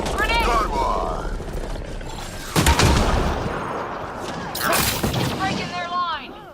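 Gunfire and a grenade blast in the video game Mass Effect Andromeda, several sharp bursts and a booming impact mixed with loud in-game combat voices and shouting.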